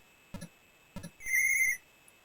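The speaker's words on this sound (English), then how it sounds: "Whistle sounds quite good, I suppose." A chiptune referee whistle from Kick Off on the Amstrad CPC, a single short shrill electronic tone following two quick low thuds, clean and alone.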